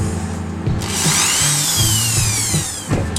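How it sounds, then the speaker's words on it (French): Power drill boring a pilot hole into a beech wood birdhouse, a close, loud motor whine that revs up and holds with shifting pitch through the short cut. "Alors on va percer, faire un avant-trou."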